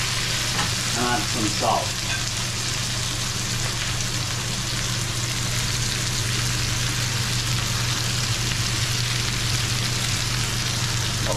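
Thinly sliced karela fries in a pot over low heat, a steady close hiss of sizzling oil running throughout, while a person speaks briefly near the start.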